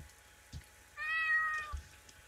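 A cat gives a single clear, drawn-out meow in the middle, close and fairly loud over a quiet background with a few soft knocks.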